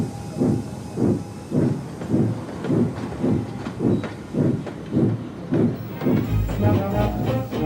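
A steam engine, Gordon, chuffs slowly out of a station, puffing in steady even beats about twice a second with hissing steam over the top and a low rumble rising near the end.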